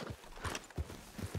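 Horse hooves clip-clop at a steady rhythm in Red Dead Redemption 2, a few close, fairly loud hoof strikes standing alone with no talk.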